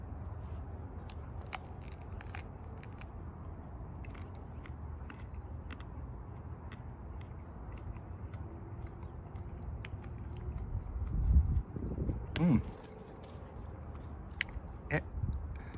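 Someone bites into a crisp, fresh, apple-like fruit outdoors at summer's end, giving a short, close crunch and brief chewing against a steady background hum, with no talk.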